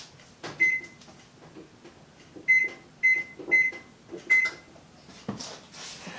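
An oven control panel beeps as it is set to preheat to 425 degrees, with a series of short electronic tones between soft button presses and clicks, close by and alone.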